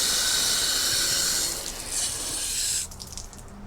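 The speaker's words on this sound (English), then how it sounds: "it has all the slits that the water comes out of" Water sprays hard from a slotted chassis flushing kit nozzle under an off-road rig, a loud steady hiss that shifts in tone midway and then thins out near the end, with no talking.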